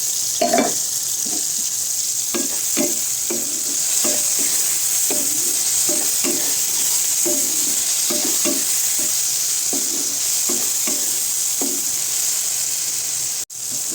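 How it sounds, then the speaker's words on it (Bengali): Eggplant fries with neem leaves in a pan under a loud, continuous sizzle, broken by regular scraping stirs roughly every half second. No voices are present. "বেগুন মোটামুটি আমার ভাজা হয়ে গেছে, ভেজে থাকা নিম পাতাটা দিয়ে দেবো"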